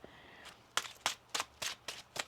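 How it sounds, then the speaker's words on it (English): Tarot cards are shuffled in a quick run of about six soft, riffling bursts at a steady rhythm, close and quiet, with no talking. "One more shuffle."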